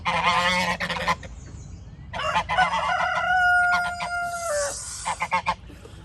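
Geese honk loudly and repeatedly up close, harsh bursts in two bouts separated by a short pause, with a long drawn-out honk in the middle.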